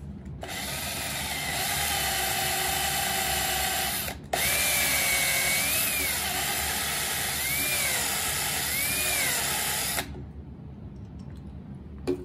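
A power drill bores a hole, whining steadily at close range in two long bursts split by a brief stop, its pitch dipping and recovering under load before the motor cuts off.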